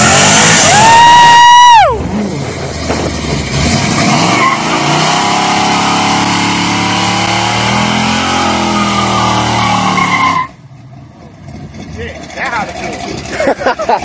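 Two 1400 HP donk cars racing side by side, engines revving loud and close, tires squealing at the start before a long sustained roar that cuts off abruptly, with crowd noise and voices around.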